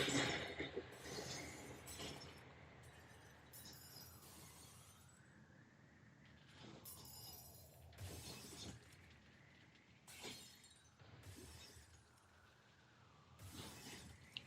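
Glass shatters and clinks repeatedly in an art installation, several separate crashes of breaking glass spread across the stretch, each followed by a tinkling decay over a quieter background tone.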